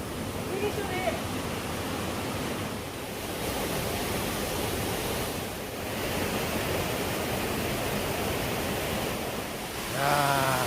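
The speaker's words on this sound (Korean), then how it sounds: "이거 한신계곡에서 제일 그 유명한 폭포죠" A famous waterfall in Hansin Valley on Jirisan pours with a constant loud rushing roar of falling water that fills the whole scene steadily, with a brief voice near the end.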